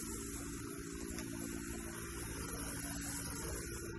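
A USB foaming sprayer unit runs with the trigger pressed, a faint steady motor hum with a hiss, continuous and even across the short stretch.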